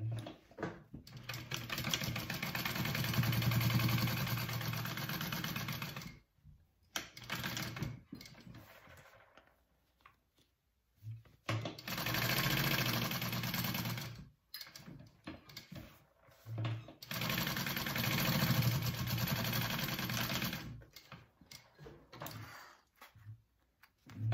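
Sewing machine basting along three raw fabric edges of a sling bag, running in three long bursts separated by short pauses and small handling clatter.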